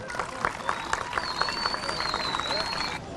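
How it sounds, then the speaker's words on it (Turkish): Children clap at an amateur sports support event, a lively burst of applause that is loud early and then fades, with a whistle-like tone and voices mixed in. "Ve ona bir alkış istiyorum çocuklar"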